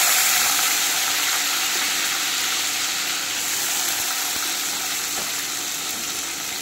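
Onion and potato sizzle steadily in hot oil after a garlic tempering, a constant close hiss of frying that stays loud and even throughout with no talking.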